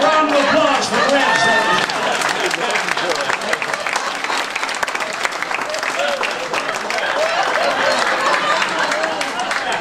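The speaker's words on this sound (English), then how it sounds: "A round of applause for Reg" A live comedy-magic show audience breaks into sustained, full-room applause for Reg, dense steady clapping with some crowd noise lasting the whole stretch.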